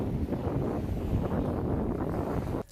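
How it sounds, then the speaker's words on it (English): Strong wind buffets a phone microphone on a sunny day outdoors, a dense, roaring rumble that holds steady for over two seconds and then cuts off abruptly near the end. "I want to give you guys an idea of how windy it is"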